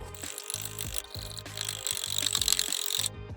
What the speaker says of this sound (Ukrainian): беремо спеціальний інструмент, наш вінчик, і збиваємо все до однорідності